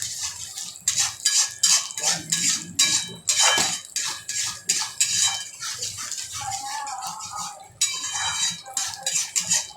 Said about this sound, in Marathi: याला 5 मिनिटं चांगलं तेल सुटेपर्यंत परतवायचं आहे